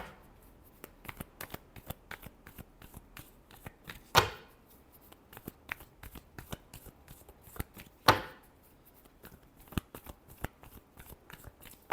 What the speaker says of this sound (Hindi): flash shuffle